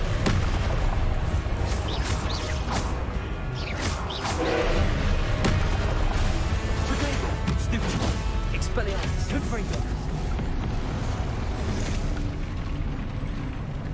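Repeated booming blasts of the Confringo fire spell in Hogwarts Legacy thud and crackle over dense battle noise for the whole stretch, with someone talking over them.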